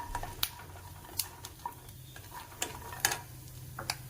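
Peanuts, dried red chillies and grated coconut stirred in a hot pan, with a faint steady sizzle under a series of sharp, separate scrapes and clicks of the spoon against the pan.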